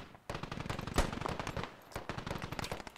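Rapid bursts of automatic gunfire crackle through a tense firefight in the military shooter Squad, loud dense volleys with short gaps, no talk over them.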